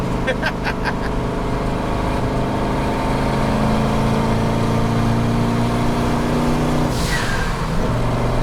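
A turbocharged rotary-swapped Datsun drives along at light throttle with a loud steady engine drone and road noise inside the cabin, while a short whoosh passes near the end.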